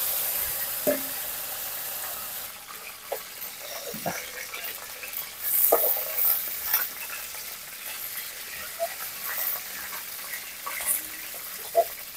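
Steady oil sizzle with a bright hiss throughout as a large aair fish head fries, broken by occasional clinks and scrapes of a utensil against the pan.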